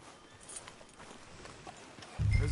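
Horse hooves in the PS4 game Red Dead Redemption 2 clop at a steady walking rhythm, faint and soft, before a low rumble rises at the end.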